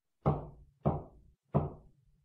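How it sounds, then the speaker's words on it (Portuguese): Three firm knocks from inside an oven, evenly spaced and growing no softer, each a dull thud with a short decay, heard alone in a quiet setting. "Primeiro um tapinha, depois uma batida"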